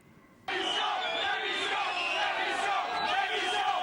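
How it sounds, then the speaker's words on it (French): A crowd boos and jeers at French President François Hollande as he arrives at the agricultural fair in Paris, a dense, loud roar of many voices starting abruptly and sustained throughout. "C'est sous les huées que le président François Hollande a été accueilli ce matin au Salon de l'agriculture à Paris"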